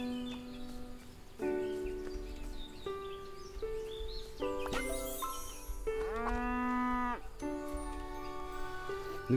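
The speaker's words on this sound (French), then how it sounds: "la vache qui court" A cow in the farming game Everdream Valley moos repeatedly while running, several drawn-out tonal calls in close succession over soft trotting and ambient background.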